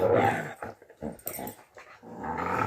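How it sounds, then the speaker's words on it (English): Dogs fighting, with close, harsh growls and snarls in uneven bursts broken by brief pauses, then a sustained rumbling growl at the end. "I'm gonna put my hand in the middle of a dog fight"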